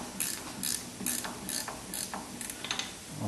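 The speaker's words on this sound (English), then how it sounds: "get my wrench in there and tighten them just enough so that they're not going to fall out for me." Ratchet wrench clicking in rapid bursts while snugging bolts on the half shaft of a 1976 Corvette, several quick ratcheting strokes close up with short pauses between them.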